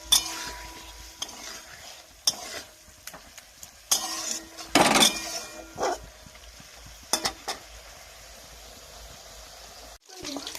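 A vegetable curry simmering in a pot while a ladle stirs it, giving intermittent scrapes and clinks against the metal, close by over a low background hum.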